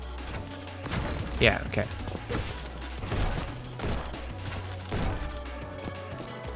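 Rapid gunfire in the video game Neon White, repeated bursts of shots and thuds under steady background music, with a player talking over them.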